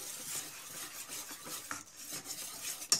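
Batter for Ramadan pide being whisked quickly in a bowl, giving a soft, rapid, rhythmic scraping and clinking of a whisk against the bowl, quiet and close, with one sharper tap near the end.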